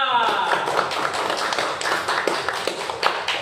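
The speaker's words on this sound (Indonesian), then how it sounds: "beli tepuk tangan kepada kelompok 3" Applause for a student group in a classroom: a cluster of hands clapping in quick, uneven bursts, fairly close and lively, with a voice briefly audible at the start.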